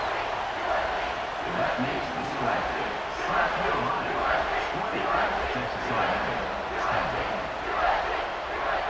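College football stadium crowd at a Texas A&M versus South Carolina game cheering before a kickoff, a broad roar that rises and falls in repeated swells and stays loud throughout.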